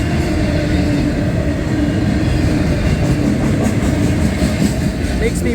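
A long CSX intermodal and autorack freight train rolls steadily past at close range, a loud continuous rumble of wheels and cars with faint clickety-clack and no letup throughout.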